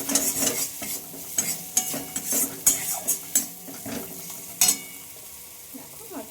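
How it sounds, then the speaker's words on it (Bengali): A spoon scrapes and clatters against a pan while chilli powder is stirred into ash gourd curry, the sharp irregular strokes sounding close over a soft sizzle of frying. "অল্প করে লঙ্কা গুঁড়োটা দিয়ে নেব এবার ভালোভাবে মিশিয়ে নেব এইভাবে"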